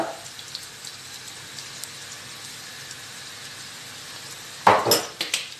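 Spices and parsley for a Turkish gözleme filling are stirred in a pan: a faint, low sizzle runs quietly, then a short burst of louder utensil scraping and clatter comes near the end.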